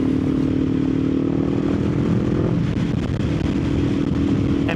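Kawasaki Ninja 500 fitted with a full aftermarket exhaust, engine droning steadily at a constant pitch, then shifting to a rougher, lower note partway through; loud and close, with no talking.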